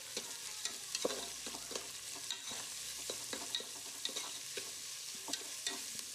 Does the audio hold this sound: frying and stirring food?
yes